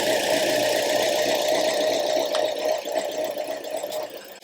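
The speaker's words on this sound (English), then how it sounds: "Notice how the engine started to go blah," A 2009 Toyota engine runs steadily under a fuel injector test, a close, continuous mechanical hum with a faint rhythmic tick and a couple of brief sharp clicks near the end.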